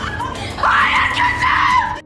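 A woman in an Ottoman-era period drama screams out loudly in one sustained, high, wavering cry lasting about two seconds, close and alone.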